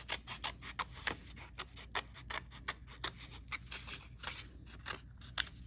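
Scissors cutting paper handles for a school craft: a steady series of soft, close snips and slicing crunches, roughly two per second, faint and with no talk.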